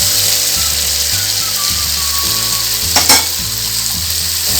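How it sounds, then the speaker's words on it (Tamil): Idiyappam kichadi, string hoppers tossed with sautéed vegetables, stirred in a frying pan: a loud steady sizzle with repeated scraping strokes of a spatula, close up and without speech. "போட்டு நல்லா நம்ம கிளறி விட்டுறணும்."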